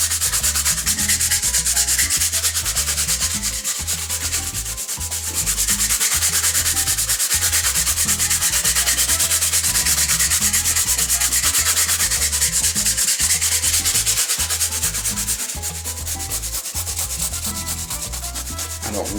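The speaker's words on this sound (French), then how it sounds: "Il ne faut pas avoir peur de bien appuyer avec une brosse un peu dure." A stiff brush scrubs hard across a leather bottle case in steady, rapid back-and-forth strokes, loud and close with brief pauses between passes, no voices.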